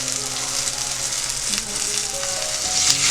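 Prawn masala fries in oil in a pan, giving a loud, close, continuous sizzle with light stirring noises mixed in.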